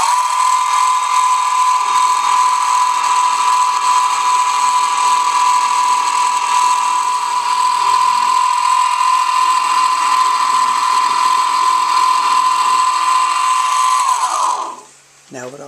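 Metal part being machined on a model casters job, taking about twenty thousandths per pass: a steady, loud, whining mechanical drone with a high tone that winds down near the end.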